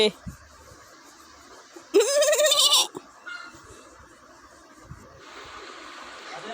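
A goat gives one loud, wavering bleat close by while being bathed on the day of Goru Bihu, followed by quieter rustling and a softer hiss of water.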